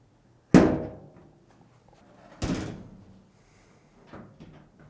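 Samsung dryer top cover pushed forward until it locks into place during a repair: two sharp plastic-and-metal knocks a couple of seconds apart, then a softer third tap, in a quiet room.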